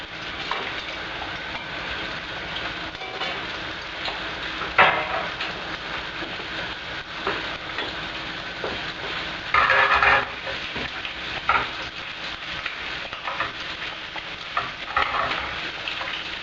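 Prawns fry in olive oil in a pan, a steady close sizzle running throughout with occasional louder crackles and stirring scrapes, no voices.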